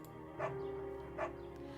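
Beagle in the game Firewatch gives two short, soft barks or yips about a second apart, faint against a quiet background.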